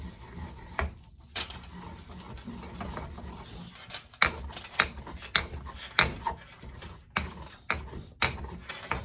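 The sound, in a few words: grinding herbs into a paste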